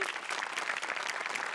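A short burst of dense, steady clapping from a studio audience applauding a comedy show's live band, heard close and without voices.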